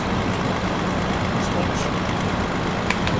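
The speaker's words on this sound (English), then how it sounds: "You can hear the other traffic." Constant rumbling engine and road noise from heavy traffic in the Euro Truck Simulator 2 video game, dense and steady throughout, with a few faint clicks near the end.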